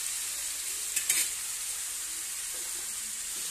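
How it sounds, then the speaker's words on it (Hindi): Tomatoes fry with potato and eggplant in a pan over a medium flame, giving a continuous close hiss and sizzle with a brief stirring scrape near the start and no talking. "अब मैं टमाटर के साथ इसे बिल्कुल आधा मिनट ढककर भूज लेती हूँ ताकि टमाटर मेरे सॉफ्ट हो जाए।"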